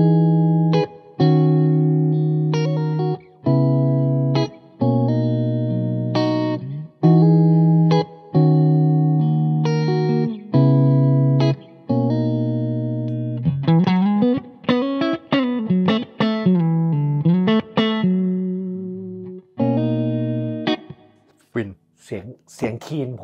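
An electric guitar, a James Tyler, plays sustained chords and phrases through a Laney IRF Loud Pedal amp, with a thick, processed, slightly distorted tone, loud and up close.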